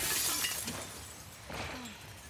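Glass shatters in the video game The Last of Us Part II, a bright crash with scattered tinkling fragments that trails off, followed by a second smaller burst, fairly close with no talk.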